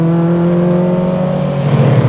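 An Alfa Romeo Giulia GTAm's engine pulls hard under acceleration, a loud, close, smooth humming drone whose pitch holds steady before easing slightly near the end.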